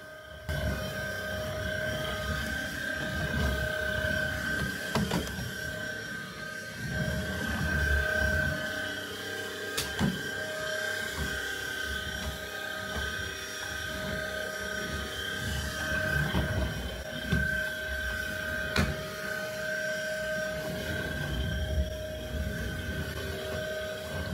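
A cordless vacuum cleaner runs continuously through a demo, a steady motor whine with a sustained tone and low rumble, punctuated by occasional sharp clicks and bumps as it moves across the floor.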